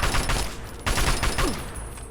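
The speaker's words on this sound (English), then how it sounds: "I got a machine gun." Sustained automatic gunfire from a machine gun in the video game Fallout 3, a dense, continuous rattle of rapid shots lasting about two seconds with no voices.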